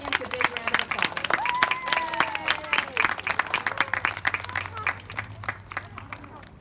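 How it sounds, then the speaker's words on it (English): An elementary school assembly audience applauds award recipients, with scattered claps, children's voices and cheering mixed in before the clapping thins out toward the end. "let's give all of our personal success recipients a big round of applause"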